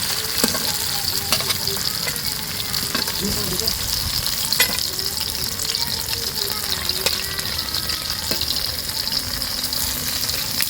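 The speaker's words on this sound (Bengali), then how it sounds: "এই দেখুন বেগুন আলু ডাঁটা সব ভালো করে ভাজা হয়ে গেছে" Eggplant, potato and vegetable stems fry in oil with a loud, busy sizzle, punctuated by sharp clicks and scrapes of a utensil stirring the pan.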